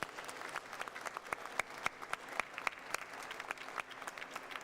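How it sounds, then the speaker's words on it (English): At a higher-education conference plenary, the audience claps for the panelists. The applause is fairly soft and distant, with individual sharp claps standing out over a few seconds. "Can you give them a round of applause, please?"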